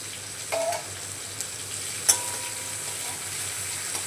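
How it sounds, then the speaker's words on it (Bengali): Onions and green chilies sizzling in hot oil in a pan, a steady soft crackle with a couple of brief clinks of a utensil against the pan, no voices. "পেঁয়াজ আর লঙ্কাটাকে ভালো করে ভেজে নেব"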